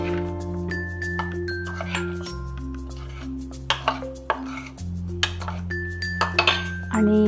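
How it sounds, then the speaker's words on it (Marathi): Aloo chaat is mixed with tamarind-jaggery chutney, with a spoon clinking sharply against a metal bowl again and again over steady low background music and no voices. "आणि हे सगळं आपण चांगलं मिक्स करून घेऊया।"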